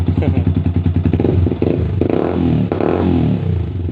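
A long-unused Yamaha R15 motorcycle engine runs loudly nearby, its exhaust giving a rapid, throaty pulsing beat that rises slightly and settles.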